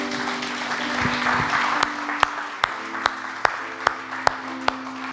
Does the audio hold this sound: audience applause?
yes